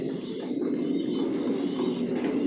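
Racing pigeons, breeding and racing pairs, coo together in a large loft, with soft overlapping throaty calls close by, continuous and layered, and a few faint chirps above them.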